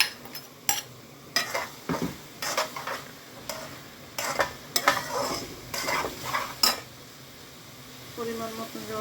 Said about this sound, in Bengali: এখন আলুগুলো দিয়ে দিচ্ছি